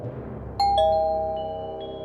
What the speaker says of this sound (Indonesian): suara bunyi bel pintu hotel suite mereka berbunyi